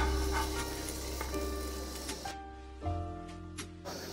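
Dosa batter sizzles steadily on a hot pan in a bachelor room kitchen over a low electrical hum. It then quietens, with a couple of light utensil clinks and scrapes.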